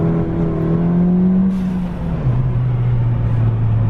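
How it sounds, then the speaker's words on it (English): Ford Fiesta ST with an upgraded intercooler and traction control off, accelerating hard through second gear, a loud close engine drone that rises steadily then drops with a brief dip before pulling on, with no talking. "we're gonna do one more pull here in second gear"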